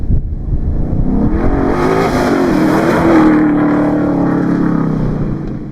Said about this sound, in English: this Bronco sounds scary out there